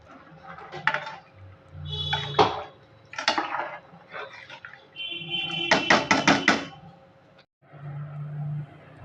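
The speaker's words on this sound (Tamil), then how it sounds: "இப்போது ஒரு கிளறிடலாங்க." Hyderabadi mutton biryani rice being stirred in a metal pot, with scraping and metallic clanks of a ladle in irregular bursts, close and moderately loud, without talk.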